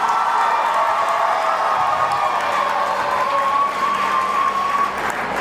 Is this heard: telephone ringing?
no